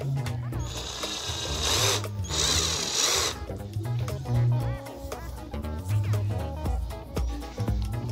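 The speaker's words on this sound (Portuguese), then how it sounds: "tirar aqui a parafusadeira agora." A power screwdriver drives in the screws for the tuning pegs on an acoustic guitar, whirring in bursts at close range with short pauses between runs and brief speech in between.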